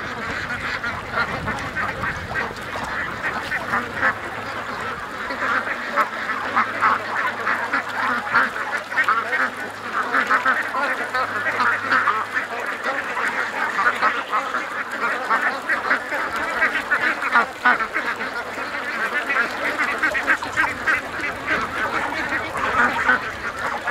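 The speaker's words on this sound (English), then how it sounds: "Let's go down to the water with the ducks." A large flock of over a thousand ducks rushing out of a pen quacks and honks continuously, loud and close, a busy chattering chorus with no one speaking.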